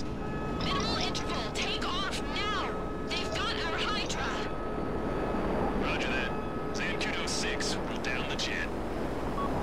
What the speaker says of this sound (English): You guys got the fighter jets.